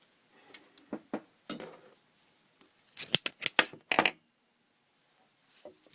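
Scissors snip through thick knitting yarn in a few quiet, close clusters of sharp metallic cuts, with short pauses between bursts and no talking.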